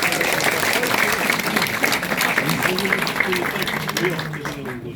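An audience at an election campaign office opening in Incheon's Seo district claps after guests are introduced, with dense, loud, sustained applause over a busy hall full of voices that fades near the end.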